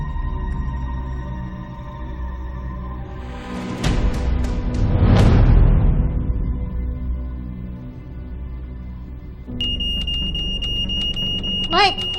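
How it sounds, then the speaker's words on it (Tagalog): An alarm suddenly going off in a tense drama scene, with rising and falling wailing tones swelling loudly over a low rumbling backdrop, later joined by a steady high electronic beeping. "Bigla na lang tumunog yung alarm."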